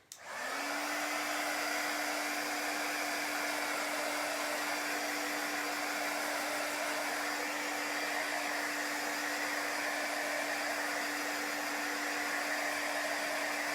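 A hair dryer runs steadily and loudly to dry chalk paste on a craft project, a constant blowing whoosh with a faint whine that starts abruptly and holds unchanged for the whole stretch, with no voices.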